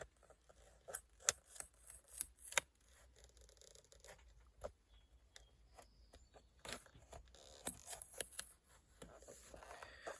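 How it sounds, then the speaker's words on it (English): Scissors cut through the tight binding strings of a handmade journal, close-up snips and crunches in uneven bursts followed by quieter rubbing and rustling. "I should be able to cut through the strings that hold it together."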